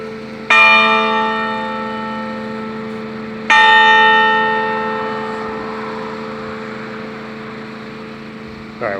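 Church bell at Friendship Church in Buena, New Jersey chiming noon, two loud, clear strokes about three seconds apart, each ringing out with a long shimmering decay over a steady low hum.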